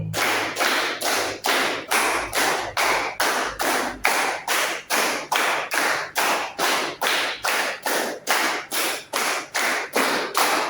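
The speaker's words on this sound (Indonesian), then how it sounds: "Tepuk 5-nya 5 kali." A group claps in a steady, even rhythm during a clap-counting game at a teachers' coaching session, with over twenty sharp claps at a brisk, regular pace, loud and close with no talking.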